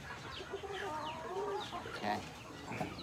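Red-coloured young rooster, very tall for its age, clucking steadily up close among several cackling fowl on a farm, with no talk.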